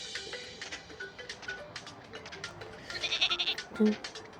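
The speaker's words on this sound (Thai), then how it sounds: "นี่แพะแพะแพะ นี่ถูกอะ" A goat bleats briefly in an animal-catching video game amid a busy stream of soft clicks and game-like background sounds, followed by a short lower bleat.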